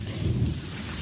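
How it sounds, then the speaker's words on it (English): Thunder rumbles loud and low through a steady wash of heavy rain during a Mississippi Delta thunderstorm on Easter morning, a continuous roar with no voices. "the thunder is crashing down"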